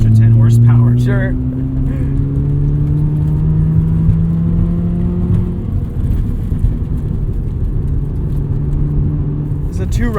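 A 1990 Mazda RX-7 two-rotor rotary engine revs loudly up through the range with a rising whir, climbing, dropping back, then holding a steady drone while voices talk over it.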